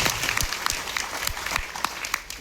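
A crowd at a devotional bhajan and satsang gathering in Gaglasan, Mehsana applauds the prime minister, a dense, moderately loud burst of many hands clapping with sharp individual claps standing out.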